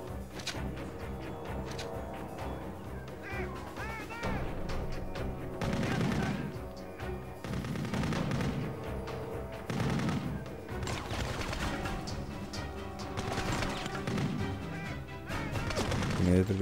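Gunfire in the PS2 video game Kill Switch: repeated bursts and crashing shots over dense, continuous game music and effects, loud throughout.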